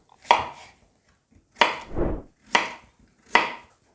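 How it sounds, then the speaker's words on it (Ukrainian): Four separate knife chops land on a cutting board while pumpkin, carrot and onion are cut for roasting, each a sharp close knock spaced about a second apart. "Овочі почищені, тож нарізаємо їх для подальшого запікання в духовці."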